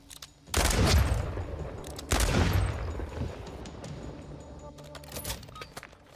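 Gunfire in a video game gunfight, two loud bursts of shots a second and a half apart, each trailing into a fading rumble, with faint clicks and game noise afterward.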